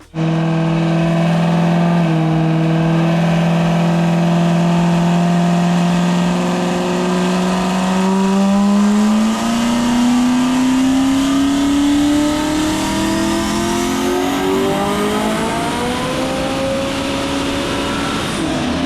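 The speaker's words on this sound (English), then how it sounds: "So then we put the car on the dyno, dialed in the fuel system." A turbocharged Coyote engine in a Ford Mustang revs hard and continuously on a dyno, its pitch climbing steadily over nearly twenty seconds, loud and close.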